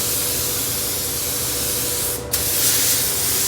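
Spray gun applying sealer to a pearl white Volvo front bumper, a loud continuous hiss that cuts off briefly near the two-second mark before resuming for a second pass.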